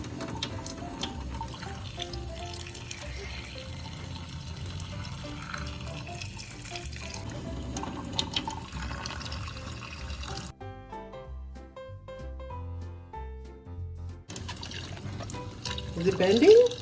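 A steady stream of water runs from a tap for a balloon water-bending experiment, a continuous close pour that breaks off briefly and then resumes, with children's voices around it.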